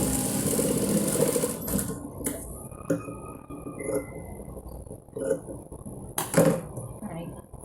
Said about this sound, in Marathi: व्यवस्थित शिलाई मारायची.